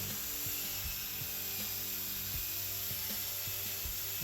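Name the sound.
drill with wire wheel cleaning live edge of wood board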